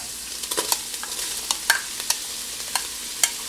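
Onion and garlic being stirred into browned sausage in a Ninja Foodi pot, with a soft steady sizzle and sharp scraping clicks of a utensil at irregular intervals, close and alone.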